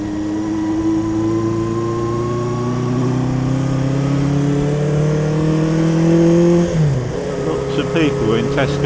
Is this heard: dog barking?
no